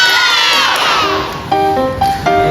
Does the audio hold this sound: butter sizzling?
no